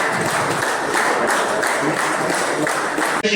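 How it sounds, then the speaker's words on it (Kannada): Audience at an organic farming training talk for farmers claps steadily and densely for the whole stretch, then the clapping cuts off abruptly at the end. "ಚಪ್ಪಾಳೆ."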